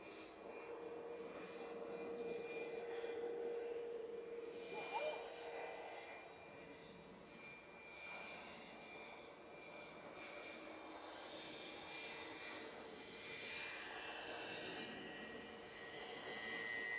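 A 36-year-old Jet2 Boeing 757-200 in red and grey livery at Manchester Airport, its engines a steady distant broadband roar with a faint whine, continuous and moderately quiet, with people talking over it.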